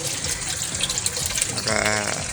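Water flowing in a small backyard hydroponic setup, a steady close splashing and trickling stream like a running tap, growing slightly fuller near the end.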